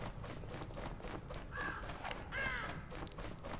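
A crow caws twice in a spooky Halloween shooting video game, short harsh calls rising out of a busy bed of game noise and faint hoofbeat-like thumps, fairly quiet overall.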